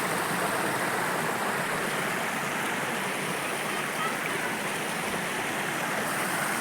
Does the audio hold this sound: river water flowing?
yes